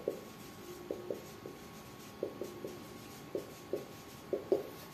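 Pen strokes of a physics solution being written on paper come as faint, sparse scratches and taps, scattered irregularly through a quiet room with no voices.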